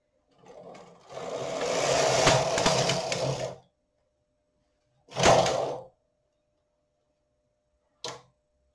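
Knitting machine carriage sliding across the needle bed to knit a row: one long loud rasping sweep, then a shorter pass and a brief final swish, with silence between them.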